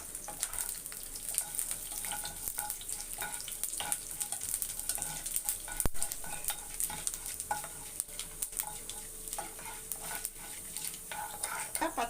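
Chana dal fried in hot oil in a pan with mustard seeds for potato masala, a steady close sizzle with scattered crackles and stirring clinks throughout, no talking.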